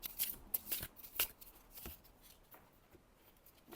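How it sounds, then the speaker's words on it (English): Tarot cards shuffled by hand, a few quick riffling bursts close by in the first two seconds, then quieter handling in a hushed room. "I'm going to shuffle this deck and pull you 3 cards"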